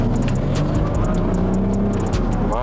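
Range Rover Sport diesel engine pulls hard under acceleration, a steady, close drone from inside the cabin that climbs in pitch toward the end, with no talking over it.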